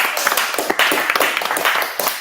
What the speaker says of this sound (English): Everyone should give themselves a round of applause.